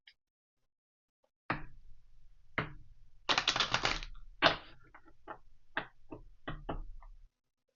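Deck of cards being shuffled, a series of soft riffling bursts and taps close by, one longer ruffle in the middle among shorter snaps, otherwise quiet.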